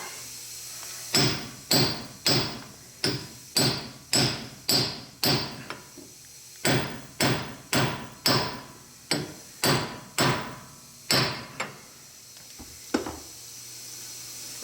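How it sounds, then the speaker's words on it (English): Hammer blows drive a pinion seal into a Jeep Gladiator axle housing with a seal driver: about eighteen sharp metallic strikes in quick bursts of two to four, close and loud, with no talking. "now we're going to put our pinion seal in, and we have a nice little pinion seal driver for this"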